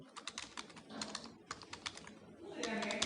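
Rapid clicking of keys on a computer keyboard while writing C# code, a run of close, crisp taps at an uneven rhythm that thickens into a denser flurry at the end.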